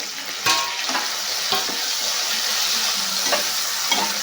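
Curry leaves sizzle as they fry in a pan with softened tomato, a steady bright crackle throughout with a few sharp stirring clinks, close and alone without talk.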